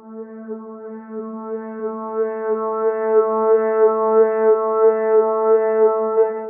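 Sustained synth tone run through a Phase Plant formant filter with LFO modulation, its vowel-like timbre wobbling in a steady repeating pulse, growing slightly louder and heard alone.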